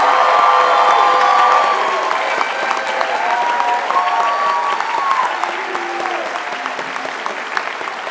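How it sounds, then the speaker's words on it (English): Sustained applause with cheers and whoops from a crowd honoring graduates at a midyear college graduation ceremony, loud and full at first, then easing slightly while clapping continues. "Let's give another round of applause to our Gettysburg College graduates."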